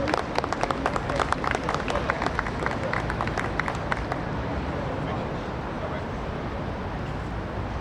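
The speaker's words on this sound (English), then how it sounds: "Please give him a great round of applause." Dense crowd applause at an outdoor political rally in a city park, loud continuous clapping with sharp individual claps in the first half, then settling into a softer, steady wash of clapping and crowd noise.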